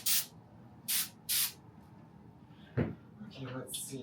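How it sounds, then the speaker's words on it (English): Three short, loud hissing bursts from an aerosol spray can, evenly spaced in quick succession, followed by a sharp knock and light rustling handling noises in a small room. "I just got some spray."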